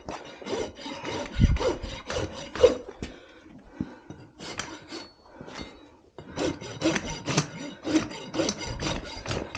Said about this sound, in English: Now by rounding this hoof, it helps prevent chipping and cracking